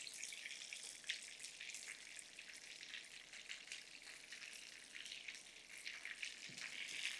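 Shrimp coated in pork panko frying in hot oil, a steady close crackling sizzle with faint pops throughout, no voices.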